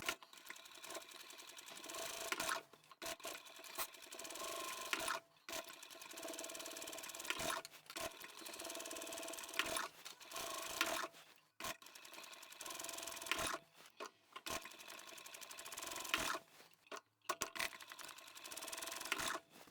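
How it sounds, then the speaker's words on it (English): Stitching a straight seam with backstitching on a small rounded pouch with boxed corners, a sewing machine whirs in repeated bursts broken by short stops, close and fairly quiet. "We just need to sew straight across here with a back stitch at the beginning and the end."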